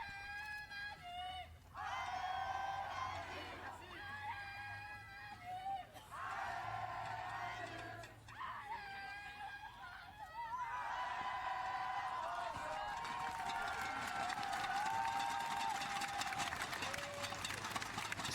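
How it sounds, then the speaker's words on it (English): A loud, vocal, mostly French crowd whoops and cheers at a recurve women's archery gold medal final at the Paris World Cup, with waves of shouting rising and falling and a commentator talking over them. "this predominantly French crowd, really very vocal in supporting Lisa Barbelin"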